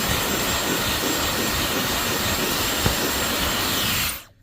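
A heat gun blows a steady, loud, unbroken roar of hot air a few inches from dented vintage leather, cutting off abruptly at the end.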